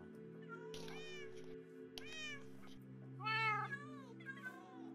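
Several domestic cats meow indoors at home in a series of separate, moderately loud, drawn-out calls over a steady background hum.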